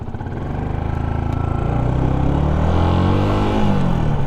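A Yamaha YZF R125 motorcycle rides along a road, its engine holding a loud, steady droning growl close by that climbs slightly in pitch, with no voices.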